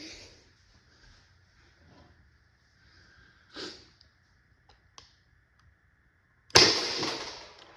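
A single sharp, loud shot from an Umarex T4e HDX .68 CO2 air pistol rings out near the end after mostly quiet moments with small ticks and clicks.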